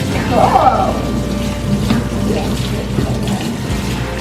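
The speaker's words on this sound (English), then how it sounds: "Okay, wash them well. Both sides, all around." A tap runs steadily into a kitchen sink as hands are washed before cooking pancakes, with a close, continuous splashing stream and a few brief speech sounds over it.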